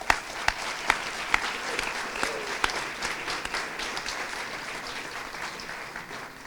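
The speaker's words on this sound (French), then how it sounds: "Donc franchement, moi je me permets de les applaudir." An audience at a conference on critical materials for the energy transition breaks into sustained applause. A few sharp, louder claps stand out near the start, then the sound settles into a dense, steady wash.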